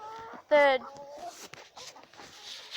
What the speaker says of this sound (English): now 9 chickens live in here